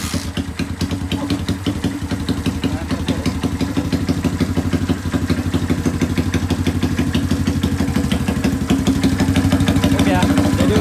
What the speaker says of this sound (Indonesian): Hidupkan kontak, engkol, dia bisa hidup normal, langsam ya.